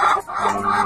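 Hens clucking at a free-range chicken farm in the Philippines, a short close burst of rapid clucks.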